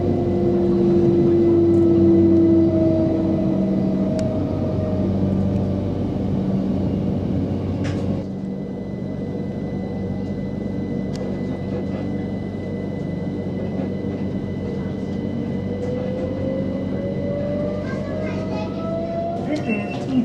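Southern passenger train running on the Tonbridge to Redhill branch line, a steady close rumble with rising and falling whines, louder early then settling, with occasional clicks.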